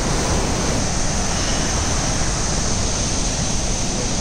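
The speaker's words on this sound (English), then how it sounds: "Look, here we get a very nice view of the waterfall. This is again, I repeat, Athabasca waterfall." Athabasca Falls roars as a dense, constant rush of falling water, loud and unbroken from start to finish, with no voices over it.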